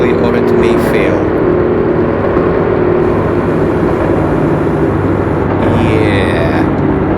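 A struggling engine in a video game, repaired last year but running poorly, drones loudly and continuously with a rough, dense rumble throughout, while a voice talks over it.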